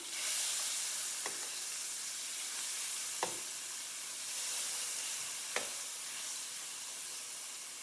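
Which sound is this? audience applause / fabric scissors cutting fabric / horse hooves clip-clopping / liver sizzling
liver sizzling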